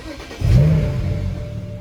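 A car engine with a quiet stock exhaust gives a short, mid-pitched rev that swells and settles back within a couple of seconds, heard close by.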